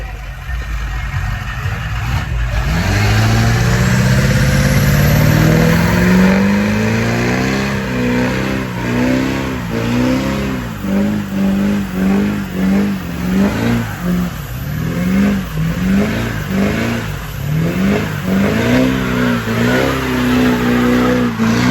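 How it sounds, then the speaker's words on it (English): A truck does a loud burnout at a truck meet in Broward County, Florida. The engine roars and revs hard in rising and falling surges, with tire squeal and skidding running continuously throughout. "We about to do a burnout."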